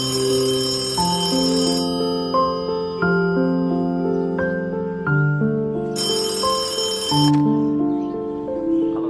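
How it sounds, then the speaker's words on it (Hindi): A bright electronic phone ringtone plays a repeating bell-like melody, loud and steady with no voices. "शबाबा का फोन।"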